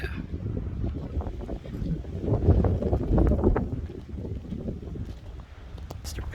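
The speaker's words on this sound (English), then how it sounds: "we got some crazy wind coming in" Strong wind blows outdoors by a cabin, a loud rumbling gusty roar that swells in the middle and buffets the microphone, with no talk.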